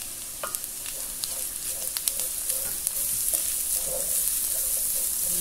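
Grated carrot sautés in a Philco Redstone PPE04FS electric pan, crackling and sizzling steadily at close range with light stirring taps and no talk.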